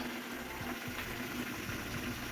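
Rice boiling in a pot for a home-cooked dinner, a faint, steady bubbling and simmering hiss heard close by with no talking.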